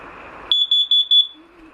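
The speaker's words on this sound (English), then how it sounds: "So I don't know if the alarm is faulty or it's truly." A carbon monoxide alarm inside a 2018 Rockwood Minilite 2104s camper gives four loud, shrill electronic beeps in quick succession, each close and piercing, then stops.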